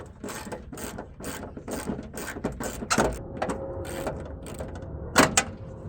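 A hand ratchet turns a 10 mm bolt in a quick series of sharp, close metallic clicks, the pawl chattering in uneven bursts with one louder clack near the end.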